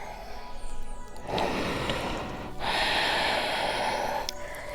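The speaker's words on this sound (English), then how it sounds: "1 more, cleansing breath." A deep cleansing breath during an at-home chair yoga session, heard as a long, close, airy inhale followed by a slow, steady exhale with no talking.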